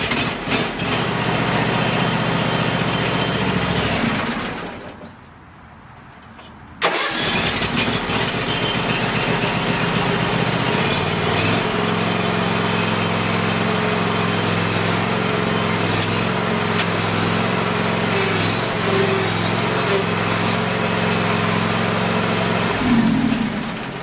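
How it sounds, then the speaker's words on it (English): A John Deere X300 lawn tractor engine starts cold on a freezing morning, running loud and steady; it cuts out briefly, then restarts and settles into a rough, continuous idle. "It's a cold start for the day."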